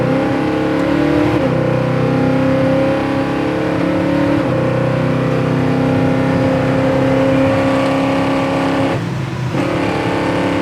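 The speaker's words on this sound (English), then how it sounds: "Quick, and that exhaust sounds nice." A 1965 Chevrolet Impala with a 427 cubic-inch V8 accelerates hard on the road, its exhaust a loud, steady rumbling drone heard from inside the car, with brief dips as it shifts.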